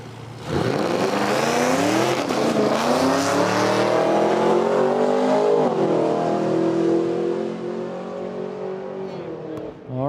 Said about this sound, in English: got a bye run here for the Camaro in this left lane